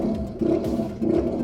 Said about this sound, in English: Firing up, and if you're ready, here is that brutally loud exhaust system.